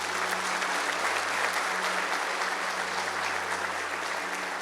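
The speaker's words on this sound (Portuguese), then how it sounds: "Vamos aplaudir o Senhor" A church congregation applauds steadily, a dense and even wash of many hands clapping that holds at a constant level throughout, with a faint low hum beneath and no voices standing out.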